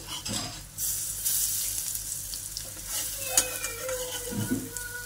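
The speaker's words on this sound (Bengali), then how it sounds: "বড়াগুলো ভেজে নিচ্ছি, হয়ে গেছে দেখো একটা দিক" Wet lentil dumplings sizzle steadily in hot oil in a wok, with a continuous close crackling hiss and occasional light scraping of a spatula against the pan.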